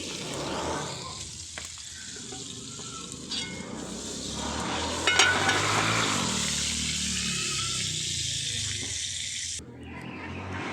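Vegetables frying crisply in a pan, a steady loud sizzle with faint stirring and clatter, continuing for several seconds before briefly dropping away near the end.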